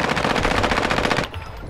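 Sustained automatic gunfire in Call of Duty Warzone, a loud, fast, evenly spaced burst that cuts off abruptly, with no talking.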